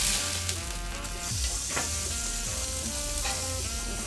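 A trout fillet sizzles steadily on a grill over a bed of rosemary, a continuous close crackle with occasional louder pops.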